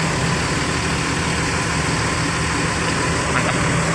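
A Rosalia Indah double decker bus engine idles during a morning mechanic's check, giving a steady, continuous low rumble with dense broadband noise at an even level throughout.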